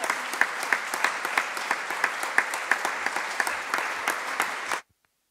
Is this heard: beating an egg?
no